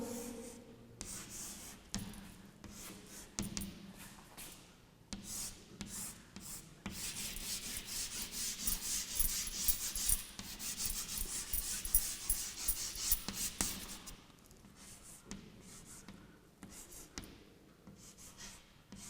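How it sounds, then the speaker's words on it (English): Pencil or crayon drawing a rock and bubbles on paper in a classroom lesson, with soft close scratching and rubbing strokes, steady shading in the middle stretch and short breaks between strokes. "I am just drawing that rock and the bubble."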